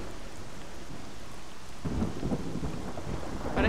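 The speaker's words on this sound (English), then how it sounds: "It was a dark and stormy night." A thunderstorm in the video game Lost Alpha, steady rain hissing on surfaces while a deep thunder rumble rolls in partway through.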